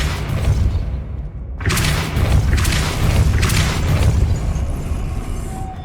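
The Depulso spell in Hogwarts Legacy goes off as a series of loud booming bursts, about four heavy blasts in quick succession after a brief lull.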